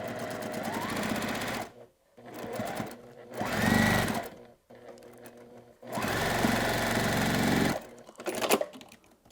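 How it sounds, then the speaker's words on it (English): A sewing machine stitching a quilt seam, its fast mechanical whir running in several bursts separated by short pauses, close and fairly loud with no talk. "you see how I pin toward the seam when I'm stitching it"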